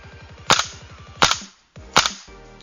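A gas-powered prop gun used on film sets fires three sharp single shots at roughly even intervals, each a loud crack standing out over a steady mechanical pulsing hum.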